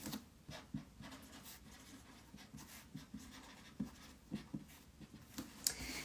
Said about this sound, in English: I'm gonna write the quote before I forget.